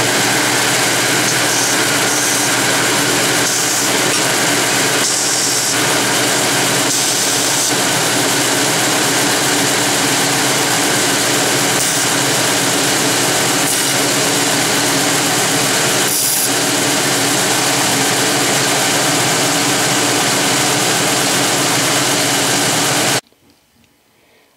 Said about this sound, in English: I like to break the corners on the belt sander